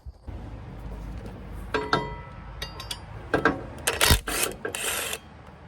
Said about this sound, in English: With our 9/16 socket, we're gonna try to zip this off